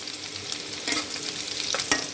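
Finely chopped onion frying and being stirred in hot oil in a kadai, a steady broadband sizzle with scraping stir strokes and a couple of sharper clinks near the end, close and alone.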